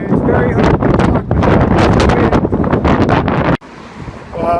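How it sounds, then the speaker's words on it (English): Strong wind roars and buffets the microphone at a windy city intersection at Portage and Main, loud and constant under someone talking, with gusts surging before cutting off near the end. "Wow, it's really windy today, no matter where I am."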